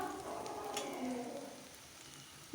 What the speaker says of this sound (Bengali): 2 মিনিট মতন পেস্ট আমি ভেজে নেব।